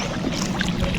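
Small wooden fishing boat moving on water at night, a steady close rush of water against the hull with no distinct breaks.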